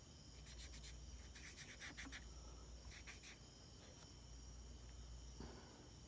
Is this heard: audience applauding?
no